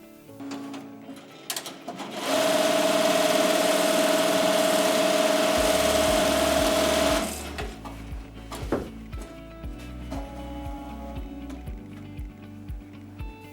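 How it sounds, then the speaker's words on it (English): A ZSK Sprint 7 multi-needle embroidery machine sews an applique placement stitch on a garment, a loud steady whirring hum lasting several seconds, then stopping into mechanical clicks and clunks. "Once I press the start button, my machine will go to the needle that I assigned and start with the placement stitch."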